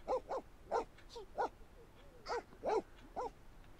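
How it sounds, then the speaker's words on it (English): Several dogs in The Sims 4 howl and yip in short, tuneful bursts, a string of about eight rising whines and howls, fairly quiet, with no talk over them. "Are the dogs singing?"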